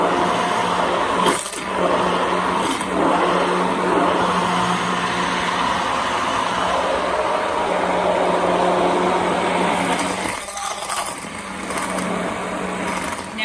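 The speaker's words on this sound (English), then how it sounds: "just blend it very briefly just so it's well distributed" A blender whirs steadily and loudly, briefly mixing keto ranch dressing with parsley added last; the motor drone holds nearly constant, with short dips around the middle and near the end.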